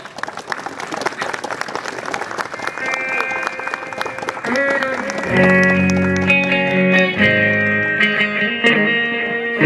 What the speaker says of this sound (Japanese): 拍手でどうぞ皆さんお迎えください